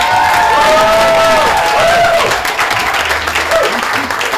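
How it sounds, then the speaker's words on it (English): An audience at a Turning Point event applauds loudly and continuously, with some cheering and whoops mixed in, filling the whole room. "Let's just have one huge round of applause for everyone here"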